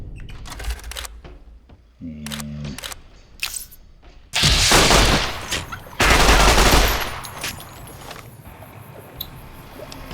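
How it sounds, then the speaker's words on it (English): Machine gun fire in Fallout: New Vegas, played on hardcore mode: sharp clicks and short gunshots give way to two long, loud sustained bursts of automatic fire, with brief gaps between them. "we are going to shoot that with a machine gun"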